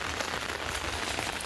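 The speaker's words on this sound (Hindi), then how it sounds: "इतनी तेज़ बारिश, हद होगी बिल्कुल।" Heavy rain pours down steadily on an outdoor village road near Shamli, a dense, continuous hiss with no pauses and no voices.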